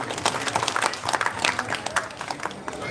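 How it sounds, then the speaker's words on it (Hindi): A crowd in an assembly hall at a Bharatiya Samaj Nirman Sangh gathering claps loudly for a guest, a brief burst of dense, uneven applause with talk mixed in. "जोरदार तालियां साथियों"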